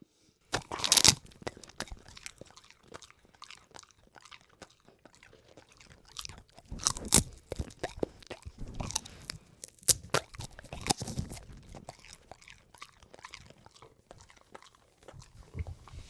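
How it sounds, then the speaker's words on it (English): A dog crunches and chews crab and seaweed sushi up close, with sharp, irregular bites and crackly chewing spread over about sixteen seconds. "That was a good crunch."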